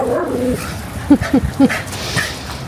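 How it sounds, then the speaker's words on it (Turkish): A dog barks at baby strollers passing by, giving three sharp, close barks in quick succession, with a faint whine and faint background noise around them. "Bebeklere havlıyor."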